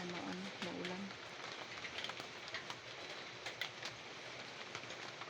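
Steady rain falls outdoors around a house, making a dense broadband hiss with scattered louder drops, while a voice speaks briefly near the start.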